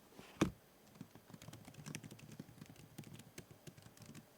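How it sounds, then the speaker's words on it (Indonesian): Someone types on the built-in keyboard of a MacBook Air M2. A quick, even run of soft, close key clicks follows one louder tap at the start, in a quiet room with no talk. "seperti ini typing testnya"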